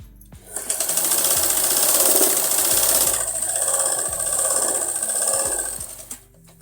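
A sewing machine stitching fabric runs in one steady, loud burst of rapid needle strokes that lasts several seconds, starting and stopping abruptly, close up with no talking.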